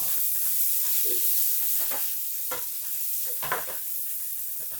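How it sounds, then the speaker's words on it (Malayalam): Sliced onions sauté with crushed ginger and garlic in a pan for chicken kondattam, giving a close, steady sizzle with a few scraping stirs from a spoon. No voices. "ഇഞ്ചി വെളുത്തുള്ളി ചതച്ചത് ഒരു ടീസ്പൂൺ ചേർത്ത് കൊടുക്കാം ഇനി ഇത് നല്ലപോലെ വഴറ്റിയെടുക്കണം"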